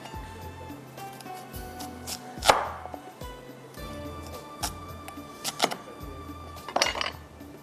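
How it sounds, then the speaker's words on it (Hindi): A knife chops vegetables into thick rings on a cutting board, a series of firm, separate thuds at an irregular pace, close up, with faint voices speaking under them. "रिंग्स इसके करने हैं इसलिए थोड़ा सा इसको मोटा कटिंग कर लें"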